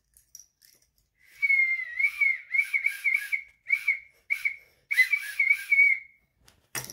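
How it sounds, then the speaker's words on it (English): A pea whistle is blown repeatedly up close: a long trilling blast, then a series of short and varied warbling toots separated by pauses. "So see all those different sounds a whistle can make?"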